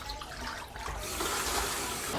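Water pours into a pressure cooker holding mutton for pulao, a steady close splashing rush that grows slightly louder over two seconds with no talking.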